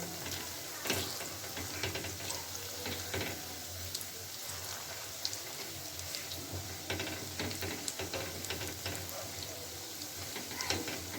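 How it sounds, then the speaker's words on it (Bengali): Bathua leaf pakoras fry in hot oil with a steady, even hiss and small scattered crackles, soft and continuous throughout, with no voices. "সব বড়াগুলোকে আমি উল্টে দিলাম এবার ভালো করে ভেজে নিয়ে তারপরে ফিরে আসছি"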